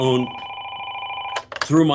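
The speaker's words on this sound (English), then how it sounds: "that phone rang" Telephone ringing in a room, a brief electronic ring tone heard clearly at the start before a voice cuts in.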